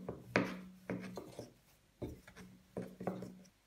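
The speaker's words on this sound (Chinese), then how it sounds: "按压一下，直接擀成圆饼状" A rolling pin presses and rolls a ball of dough flat into a round wrapper for red bean paste cakes, making several soft thudding knocks and brief rubbing rasps against a wooden board, close and alone.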